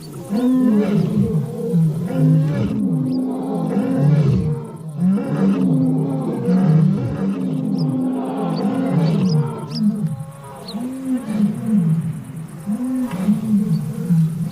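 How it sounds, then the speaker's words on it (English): A pride of lions in Tanzania growls and roars in deep, rhythmic, grunting bouts that swell and overlap as several animals join in, loud and close, with no voices. "The pride leader lion lies far from the rest of the pride, growling louder and louder, and the other lionesses join in with it."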